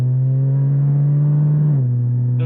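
A Porsche 718 Cayman GT4 with its exhaust always open drones loudly in a steady, deep tone, settling slightly lower near the end.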